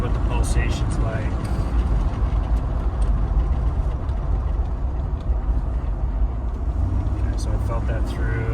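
A Mercedes G-Wagon with a failed engine cruises at 80 km/h, its low engine and road rumble steady and close inside the cabin, with people talking over it.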